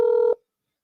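A single short ringback tone of an unanswered phone call, a steady electronic beep lasting about a third of a second before cutting to silence.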